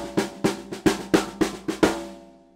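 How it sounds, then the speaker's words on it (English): A drum kit plays a 7-stroke roll fill in a four-measure space, about seven accented strokes in an even run that alternate between the right and left hands, ending with a ringing decay. "This is controlling a 7-stroke feel"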